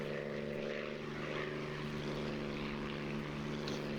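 A Spitfire's propeller engine drones steadily in a DCS World warbird dogfight, a continuous throaty hum with a layered harmonic growl holding even in level for several seconds, no voices over it.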